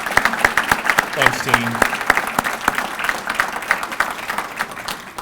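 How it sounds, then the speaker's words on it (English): Audience applause at a county State of Business address, steady dense clapping from a seated crowd across the whole span, with a brief spoken thanks over it. "Give Dean a little bit of applause there."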